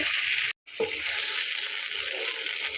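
Steady sizzling of spices frying with a brief break, then water hitting hot oil and bubbling on.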